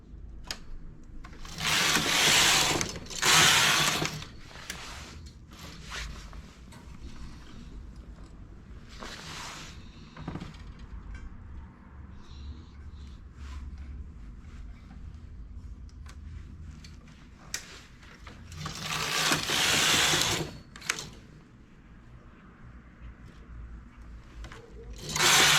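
A home knitting machine carriage is pushed across the needle bed while knitting colorwork, making two loud rattling sweeps, one near the start and one near the end, with quieter clicks and handling noises between them.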